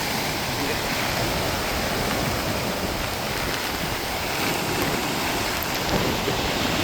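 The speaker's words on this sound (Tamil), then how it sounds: "மழை" Heavy rain falling steadily, a dense, loud, unbroken hiss of water that carries on evenly from start to finish.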